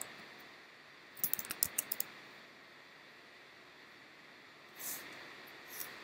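A short burst of keystrokes on a computer keyboard as a command is typed on a Raspberry Pi, a quick run of distinct clicks followed by a single louder key press against a quiet fan-like hiss.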